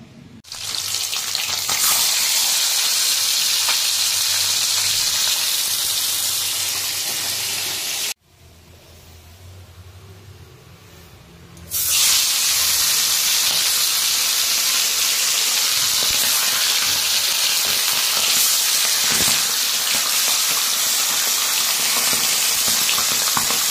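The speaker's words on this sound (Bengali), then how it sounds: "এখন মাছগুলো ভেজে নেব" Tilapia fish frying in oil in a home wok, a loud, steady broadband sizzle that drops away briefly partway through and then returns just as strongly, close and continuous with no talking.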